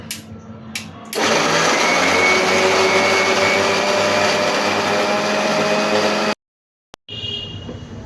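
An electric blender runs loud and steady with a high whirring drone for about five seconds, then cuts off abruptly, with a short burst of running sound afterwards.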